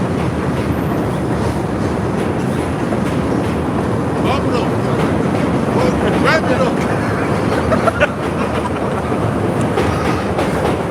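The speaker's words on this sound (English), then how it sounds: "wait for the train to go" A train rumbles past loudly and continuously, a steady broad roar with faint clacking, while several people talk over it outdoors.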